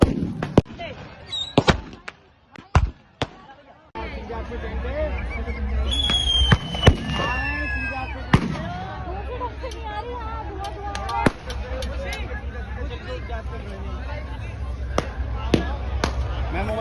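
Fireworks and firecrackers burst amid a smoky Holi celebration, with sharp loud cracks early on and then repeated pops and bangs over a steady crowd din as people talk nearby.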